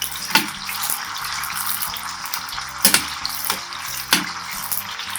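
Garlic stirred in hot frying oil without browning, for a liver and sausage dish: a steady soft sizzle with a few sharp clicks and scrapes of the spoon against the pan, close and even throughout.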